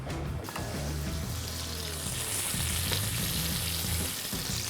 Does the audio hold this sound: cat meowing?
no